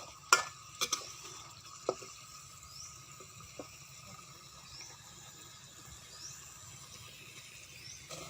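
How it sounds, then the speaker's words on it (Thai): Chili curry paste is stir-fried in vegetable oil in a pan, a faint soft sizzle under occasional clinks of a utensil against the pan, a few sharper knocks early on. "ผัดน้ำมันนะคะ ใส่น้ำมันพืช ลงไป"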